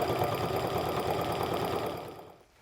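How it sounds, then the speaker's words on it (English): A sewing machine runs steadily, stitching a quarter-inch seam on a crossbody sling bag with a quick, even needle rhythm, then slows and stops near the end. "I'm going to stitch a 1/4 inch seam going across just this one side."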